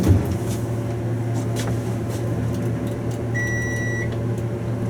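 A single steady electronic beep from a Dover traction elevator in a parking garage rings out briefly amid a constant low machine hum, resembling a microwave's chime.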